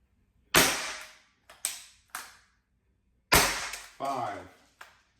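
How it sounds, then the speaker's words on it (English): A needler fires into body armor aimed at the chest plate: six sharp, close impact cracks, arriving as three quick shots, a pause, then three more that ring out and decay. "I'm going to shoot right in the middle where the chest plate is"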